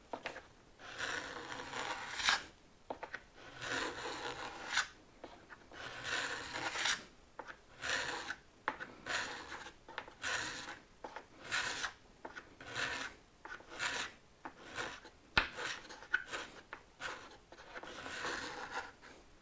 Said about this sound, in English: Now I'm going to use my card scraper, and I'm going to pull it backwards. Right the way along.